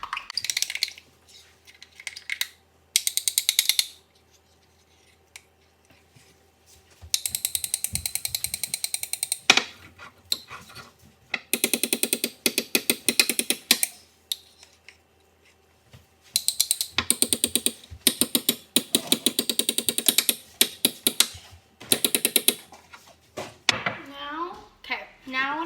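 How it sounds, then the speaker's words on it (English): A spoon mixes microwave cookie dough in a bowl, producing bursts of close scraping and clicking stirring, separated by quiet gaps, with a higher squeaky scrape near the end. "So we're just going to mix."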